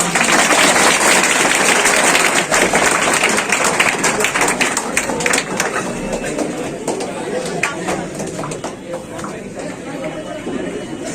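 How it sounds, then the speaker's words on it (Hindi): An audience applauds to welcome a DSP at a coaching institute event, steady clapping mixed with crowd chatter that slowly thins out toward the end. "ताली से स्वागत कीजिए"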